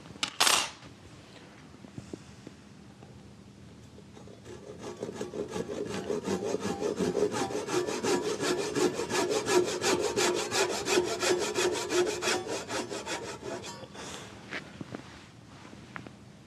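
A hand saw cuts through wood in rapid, rhythmic push-pull strokes lasting around nine seconds, close and steady, following a few scattered taps in a quiet Japanese woodworking setting.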